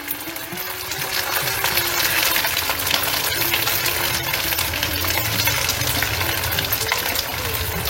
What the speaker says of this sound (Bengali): একবার নেড়ে নিচ্ছি, তেল ঘি যাতে সমানভাবে মিশে যায়